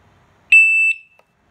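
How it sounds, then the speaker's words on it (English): A wireless siren for an M2B alarm system gives one sharp, high-pitched electronic beep during programming, close and loud for under half a second against a quiet background. "Press and long press until you hear a beep sound."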